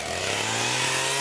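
A chainsaw runs at full throttle while cutting dirty old wood during a family deck build, with a loud, close, continuous engine roar held steady throughout and no talking.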